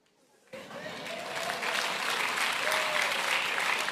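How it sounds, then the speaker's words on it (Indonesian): A church congregation breaks into applause after a short quiet moment, rising quickly into sustained crowd clapping that carries on at full strength to the end. "Jangan tepuk tangan."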